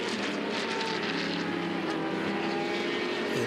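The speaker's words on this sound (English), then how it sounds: "There we are, there's the black and silver Legacy Outlaws Racing Lola T70." The black and silver Legacy Outlaws Racing Lola T70 roars past at the Dijon circuit during a Le Mans Classic endurance race, a loud, continuous, close engine howl that holds steady throughout.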